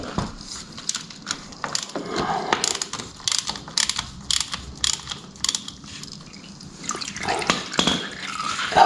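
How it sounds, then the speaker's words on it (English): A bolt being undone on a filter plate: a string of metallic ratcheting clicks and taps at close range, irregular in rhythm, with a faint drip near the end. "we remove it by undoing this bolt"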